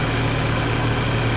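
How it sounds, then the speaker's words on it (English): Twin radiator cooling fans on a 2.0T Audi TT Mk2 / VW GTI run steadily with a close, continuous low whir and hum, engine-like and unbroken throughout, with no talking. "Let's see if the fan's running. And she spins. Both fans are spinning."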